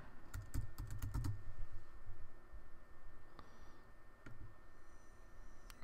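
Brief bursts of keystrokes on a computer keyboard while entering store settings, a quick cluster of clicks near the start followed by sparse isolated taps, fairly faint over low room noise.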